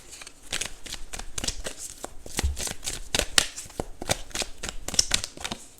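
Rapid riffling of tarot cards being shuffled, a steady run of crisp papery flicks and slaps up close, continuing without pause.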